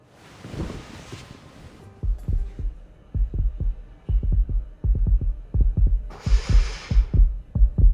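Heartbeat sound effect from the Evermore Bond video game, a deep, close double thump that repeats in a steady rhythm and grows stronger, with soft airy swells at the start and toward the end.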